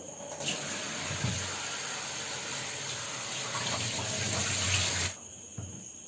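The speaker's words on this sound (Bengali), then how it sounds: "তো চিকেনটাকে প্রথমে ধুয়ে নেব" Raw chicken is rinsed under a running kitchen tap, a steady close gush of water splashing for about five seconds before the flow cuts off, leaving a few faint handling sounds and no talk.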